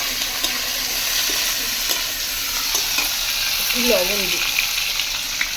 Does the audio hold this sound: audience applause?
no